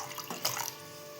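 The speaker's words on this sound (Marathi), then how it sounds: "ह्याच्यात आपण पाणी टाकतोय" Water pours into a cooking pot holding tamarind for a Marathi tamarind saar, a brief splashing rush lasting about a second, close and fairly quiet.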